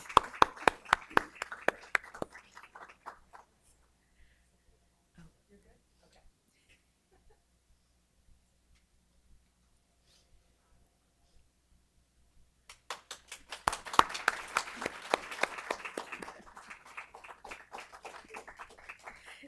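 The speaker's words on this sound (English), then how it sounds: "Round of applause." Scattered applause rises at an employee awards ceremony, then fades to near silence before a second, denser round of clapping breaks out, moderately near.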